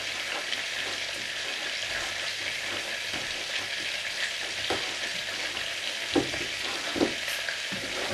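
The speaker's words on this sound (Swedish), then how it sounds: "Så att det blandas väl." Flour, baking powder and spices (cinnamon, cardamom and cloves) are stirred into a batter in a home kitchen. Continuous soft scraping and swishing runs throughout at a low, even level, with a few sharper taps near the end.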